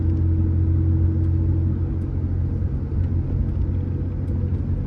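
A truck engine rumbles steadily while driving on roads around Tucson, a low continuous hum holding close and even with no talking over it.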